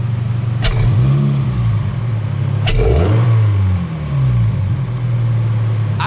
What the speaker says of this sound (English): you can clearly hear it sucking and making induction noises